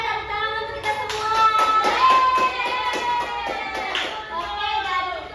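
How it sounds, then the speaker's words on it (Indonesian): Short burst of hands clapping in a primary school classroom, several children joining in rhythmic claps for a few seconds. "Oke, tepuk tangan untuk kita semua."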